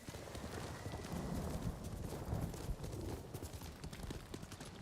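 Horse hooves gallop in Ghost of Tsushima, a fast, dense drumming of hoofbeats kept up across the clip, fairly quiet and muffled, with no clear talking over it.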